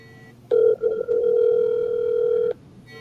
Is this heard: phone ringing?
yes